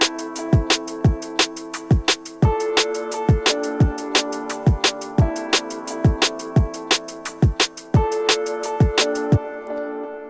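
Piano line with a delay effect in an atmospheric drum and bass arrangement, regular struck notes each trailing into echoing repeats, steady rhythmic pulse throughout, clear and fairly loud with no voices.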